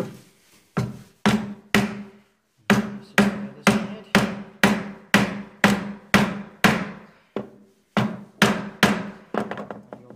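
A chisel is struck again and again to chop a mortise in timber at a woodworking bench. There are roughly fifteen sharp, close, loud mallet blows in a steady rhythm, with two short pauses between the runs of strikes.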